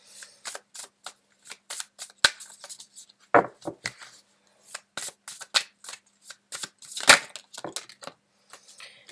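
Tarot cards being shuffled by hand close up, with quick irregular bursts of crisp riffling and slapping across the whole stretch, no voices.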